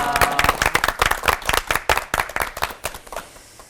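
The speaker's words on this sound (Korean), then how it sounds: "세 분의 목사님께 큰 박수 보내드리고 싶네요." A live audience at a Christian lecture on the resurrection gives three pastors a warm round of applause: many hands clapping densely and steadily, close and fairly loud, fading slightly toward the end.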